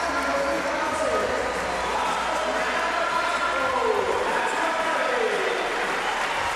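A velodrome crowd at the 2014 UCI Track World Championships applauds and cheers rider Pervis, a steady loud roar of clapping and shouts filling the arena beneath a commentator's voice.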